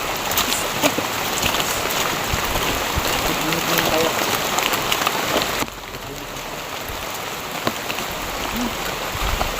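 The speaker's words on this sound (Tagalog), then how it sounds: "Lakas ng ulan talaga." Heavy rain pours down in a loud, steady hiss close by, drumming on surfaces throughout. The roar dips slightly partway through and then continues unbroken.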